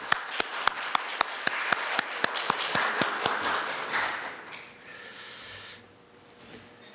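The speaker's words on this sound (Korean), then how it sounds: "우리 박수로 한번 환영할까요?" A church congregation at a Sunday service applauds to welcome visitors, starting with sharp, evenly spaced claps that swell into a fuller burst of applause and then fade out.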